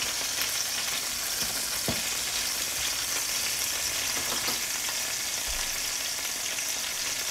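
Chicken browns in a frying pan with a constant, even sizzle and crackle throughout, plus a few faint clicks and knocks.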